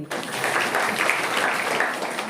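Schoolchildren in a classroom clap their hands on cue during a Holi lesson, a continuous, fairly loud patter of many hands filling the whole stretch without a break.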